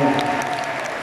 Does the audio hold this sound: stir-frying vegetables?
no